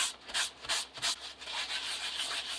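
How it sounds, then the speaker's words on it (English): A microfibre cloth or kitchen roll rubs over ink-covered embossed card, giving soft, close, rhythmic swishing strokes in quick succession that blend into a steadier rub, with no talking. "you can take a microfibre cloth or some kitchen roll"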